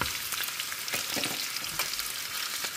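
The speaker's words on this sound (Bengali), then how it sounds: "আমি এটা মিক্স করে ফেলছি পেঁয়াজ আর কাঁচামরিচ।" Onion and green chillies frying in a pan, a dense close crackling sizzle with soft stirring scrapes, no voices.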